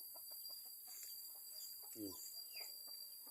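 Chickens cluck faintly at a distance behind a rural house beside a fish pond, a few soft calls over a steady outdoor hiss.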